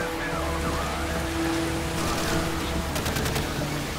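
Dense video-game gunfire in Modern Warfare 2 rattles continuously through a chaotic firefight, rapid automatic shots blurring into a crackling wall of noise with a few sharper bursts near the end.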